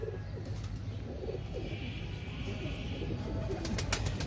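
Female pigeon cooing softly while held in the hand at a pigeon loft, low repeated coos running steadily under a faint background hum, with no talking.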